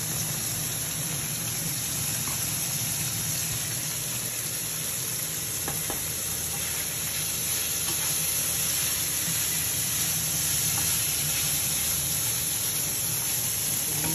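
Tofu and pechay stir-fry in a hot pan, a steady loud sizzle with faint scraping of stirring throughout, close and continuous without talk.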